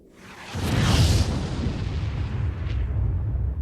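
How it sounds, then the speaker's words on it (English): A booming explosion goes off after a laser tripwire is triggered, rising into a heavy, sustained roar with a rumbling low end and scattered crackle that lingers for several seconds. "The entire crew is pushed back by the force of the explosion."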